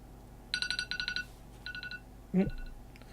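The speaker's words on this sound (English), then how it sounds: "Phone reminding me that there's a Man United match soon." A mobile phone reminder alert going off, with a rapid series of bright electronic beeping bursts, a pause and another short burst, then a brief low voice-like thump under a faint room hum.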